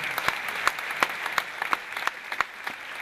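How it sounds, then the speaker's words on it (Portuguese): Clapping from a live music show's audience for a local TV crew and its presenter, close and fairly loud, with sharp individual claps standing out from a steady patter. "peço-vos uma enorme salva de palmas para a Barcelos TV e para o Carlos Araújo"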